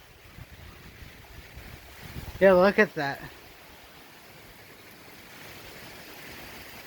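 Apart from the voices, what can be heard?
pouring rain and wind during thunderstorm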